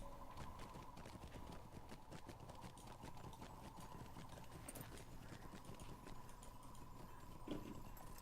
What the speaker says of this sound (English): Yes, this is the Mordor cosmetic horse.